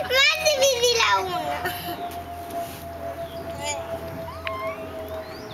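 Three cats meow in several drawn-out, rising calls while a person talks over them, and the mewing comes close and clear.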